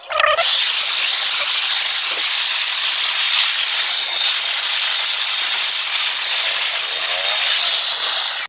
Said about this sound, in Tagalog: kaya ito muna pagtyagan natin, inko na spray gun.